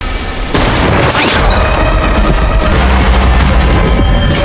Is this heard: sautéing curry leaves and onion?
no